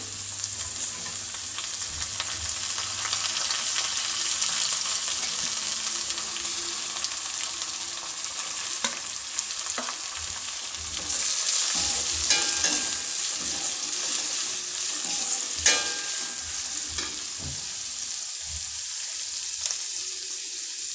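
Chopped carrots and finely cut beans sizzle steadily in a hot pan for pulao, a constant close frying hiss broken by occasional scrapes and clinks of stirring, with no talking.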